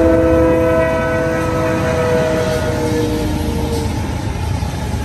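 A southbound mixed freight train rumbles past nearby on the Newmarket line, steady and loud, with a fading horn blast at the start and a continuous rolling clatter throughout.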